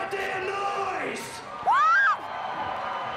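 Arena crowd at an MMA fight in Atlanta, Georgia, roaring and cheering with whoops and shouts, loud and near, swelling mid-clip while an announcer's voice sits over the noise.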